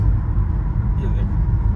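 An MG Hector SUV cruises on an expressway while its ADAS eases the speed down on its own, giving a steady low road and engine rumble with tyre noise throughout. People talk over it inside the cabin.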